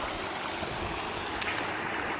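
A natural waterfall in an adventure park rushes in a steady, broad roar, heard at moderate distance and quite soft, with no voices.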